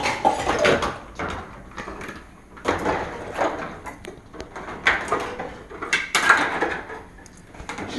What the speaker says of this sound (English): I like to go ahead and start cleaning up a little bit, throwing things in the sink